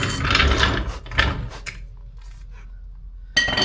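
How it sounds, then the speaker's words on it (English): A car jack works under a BMW E30, making close ratcheting, clicking metal bursts in short spurts separated by brief quiet gaps, with a final sharp clank near the end. "Let's jack it up."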